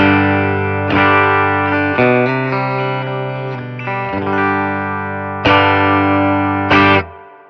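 An electric guitar through a Fender Tone Master Twin Reverb amp at full 85-watt power rings out loud and close, with strummed chords and single-note runs sustaining between sharp, hard attacks.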